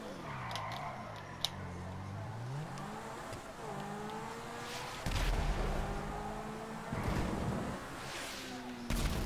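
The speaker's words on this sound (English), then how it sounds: "Why is he shooting over there when I'm here?" Gunfire in a one-on-one video game match, with a few broadband shot bursts around the middle and end, heard against revving vehicle engine noise and a steady game background.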